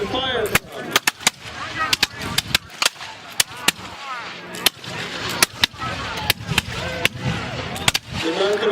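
Muskets crack out in a ragged volley at a Battle of Bunker Hill 250th anniversary reenactment in Gloucester, Massachusetts, many sharp reports in quick uneven succession, some near and loud, under shouted commands.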